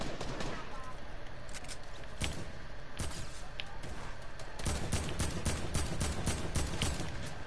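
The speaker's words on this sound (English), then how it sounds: "Bro, I can't hit my shots with this AK." Rapid AK rifle gunfire in a video game, repeated sharp bursts and single cracks scattered across the stretch, fairly loud and busy, with a denser clatter of shots toward the end.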